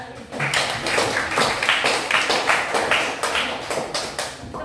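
A small group claps for a presenter in a classroom session, a dense, close patter of hand claps that carries on evenly for several seconds with no talk over it.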